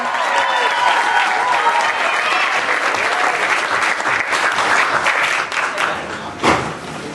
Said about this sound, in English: Clap for Bennett